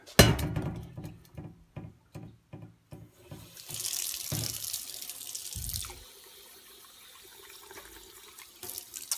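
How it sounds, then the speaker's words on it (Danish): Cold water runs from a kitchen tap into a homebrew mash to bring it down to temperature, with clattering knocks at first, then a loud steady gush that drops to a softer trickle. "Det gør man ganske enkelt med lidt koldt vand."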